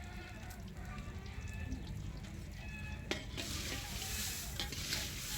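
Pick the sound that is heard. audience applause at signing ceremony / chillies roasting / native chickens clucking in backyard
chillies roasting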